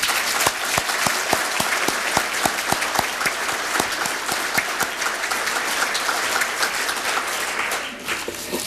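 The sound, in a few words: audience applause for honorees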